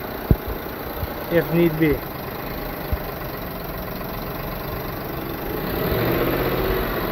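A 1998 Ford Expedition with 146,000 miles and a worn upper lifter idles with a steady low drone and faint ticking, while someone talks briefly near the start.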